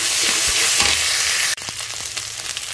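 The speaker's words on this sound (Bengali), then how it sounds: "তেল গরম হয়েছে, পেঁয়াজ এবার দিয়ে দেবো আদা রসুন" Onions with ginger and garlic hit hot oil in a pan, a loud, close hiss of frying that shifts abruptly midway into a fresh burst of crackling sizzle with stirring.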